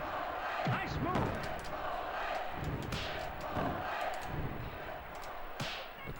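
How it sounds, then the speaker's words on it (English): An arena crowd in the wrestling game WWF Attitude roars continuously, with slaps and impact thuds from the ring cutting through the steady cheering, and a commentator voice mixed in. "The crowd was feeling Triple H after that"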